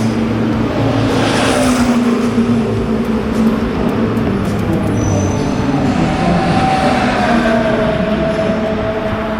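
Aston Martin race cars thunder past at Le Mans, a loud continuous engine roar with a rising and falling whine as the cars sweep by, heard from the grandstand crowd.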